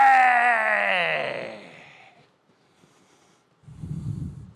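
A voice imitates blowing air out of the mouth: a long, loud wavering exhale fading out, a pause, then a short breathy puff close by.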